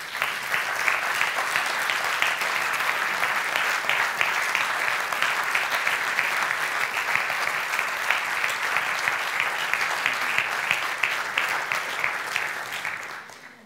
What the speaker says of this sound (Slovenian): In vsi ti velikani in Lavričeva knjižnica si zaslužijo en velik aplavz.